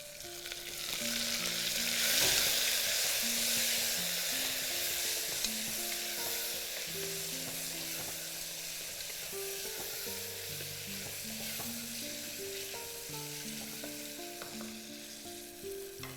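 Tomatoes, salt and green chili frying in a pan for jackfruit-seed biryani, a steady close sizzle with clinks of the spoon stirring throughout, no voices.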